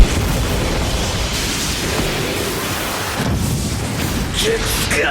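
Ichigo's Soul Bomb special attack in a Bleach video game: a continuous, loud roaring blast with dense rumbling booms and bursts that fill the whole stretch, with possible speech buried underneath.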